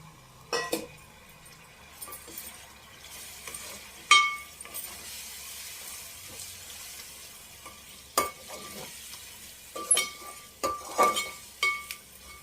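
Mutton frying in a pot with salt, chili, turmeric, coriander and mint, a low steady sizzle broken by intermittent stirring scrapes and metal clinks of a spoon against the vessel.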